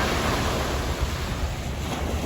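Sea waves wash onto the shore along the coast of Ibaraki, Japan, as a steady, fairly loud broadband surf rush with wind noise on the microphone, continuous across the short stretch and with no voices.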